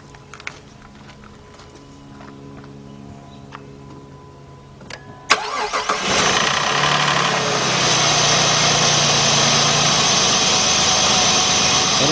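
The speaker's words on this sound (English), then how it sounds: "Let's start the vehicle up and see what we got." A 2006 Jeep Grand Cherokee Laredo with a 3.7 engine and a cylinder 3 misfire is started up. Quiet clicks and chimes come first, then the engine cranks and catches into a loud, steady idle nearby, with no talk.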